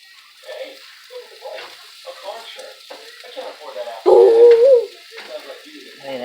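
Eggs frying in a pan while young kids cook, with a soft steady sizzle and scattered pops running under close children's and adult voices, plus a brief louder tonal squeal partway through.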